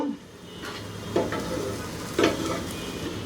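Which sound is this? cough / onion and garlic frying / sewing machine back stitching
onion and garlic frying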